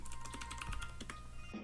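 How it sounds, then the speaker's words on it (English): Quick bursts of keystrokes on a computer keyboard while typing into an in-game chat, close and crisp clicks in an uneven rhythm, with no talking. "That's what I'm typing right now."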